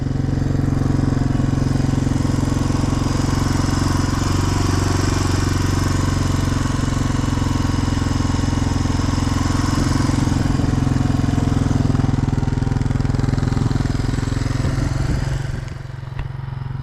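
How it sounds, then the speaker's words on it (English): Motorcycle engine idling with its idle creeping higher, a steady loud low rumble running continuously outdoors in a desert area before fading slightly near the end. "Idle starting to get higher on the bike."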